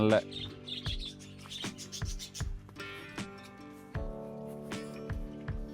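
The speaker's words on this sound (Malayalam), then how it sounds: "ഇവിടെ ഒരു ലവ് ബേർഡ്സിന്റെ ഇതുണ്ട് കേട്ടോ. അതിൽ ഇഷ്ടം പോലെ കിളികളുണ്ട്." Lovebirds in an aviary at a budget pool villa resort in Wayanad, chirping and tweeting in quick, overlapping calls close by, while a person talks over them.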